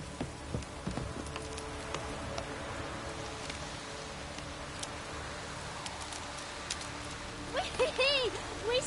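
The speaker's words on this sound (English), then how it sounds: "Looks like rain." Steady light rain patters in Witcher 3: Wild Hunt, a soft continuous hiss of drops with small ticks, faint and constant under the game's ambience, with a brief voice-like sound near the end.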